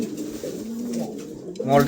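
Soft, low pigeon cooing repeats in a steady murmur, close by, with some background noise and a brief rustle near the end.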